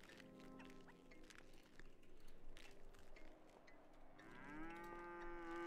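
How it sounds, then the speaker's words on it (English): A cow in GTA 5 moos, with a long, drawn-out low call rising near the end, heard over faint game ambience and scattered background clatter. "Why do I hear a cow?"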